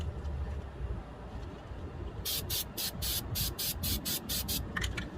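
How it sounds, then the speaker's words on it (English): Coating sprayed in a run of about ten short, regular bursts underneath a pontoon boat during a rebuild, close and fairly loud over a steady low rumble of background noise. "I'm going to get under the boat and find the crucial spots where I believe also need to be sprayed, and I'm going to spray them in there"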